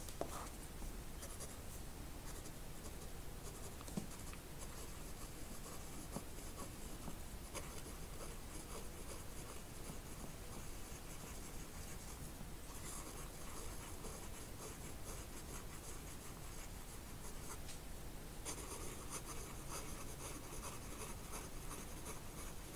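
A fountain pen with a 14K gold Sailor nib moves quickly across paper in a steady, faint, continuous scratching, heard close and alone for a sustained stretch.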